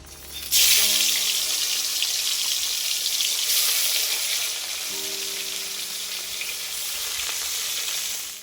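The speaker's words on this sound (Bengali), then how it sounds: "এবার তেল গরম হয়ে গেছে মাছ দেব তেলে" Koi fish hit hot oil with a sudden loud sizzle that settles into a steady, crackling frying hiss, swelling again toward the end, with no talk.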